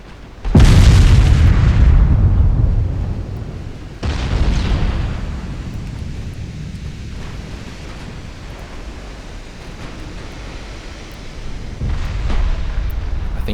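A video-game warship ramming an enemy battleship: a massive, loud crashing boom that rolls into a long rumbling wash, followed by further heavy impacts and a lingering sea-like roar.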